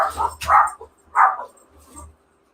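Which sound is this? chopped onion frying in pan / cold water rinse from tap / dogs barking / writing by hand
dogs barking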